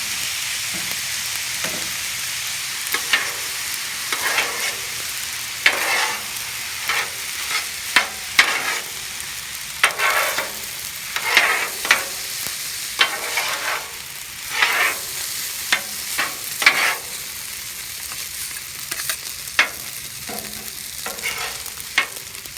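Fried rice with soy sauce stir-fried on a Blackstone griddle, a soft continuous sizzle punctuated by frequent sharp spatula scrapes and taps at irregular intervals, close by and with no talk.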